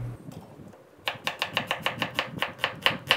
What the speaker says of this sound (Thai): ซอยหอมเสร็จเรียบร้อยนะครับ